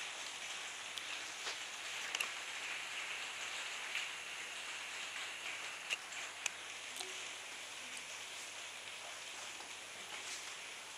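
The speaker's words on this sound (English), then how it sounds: "it's also raining, you can probably hear that too" Rain falls outdoors at night as a steady, even hiss of drops on surfaces, with a few sharper nearby drips now and then and no voices.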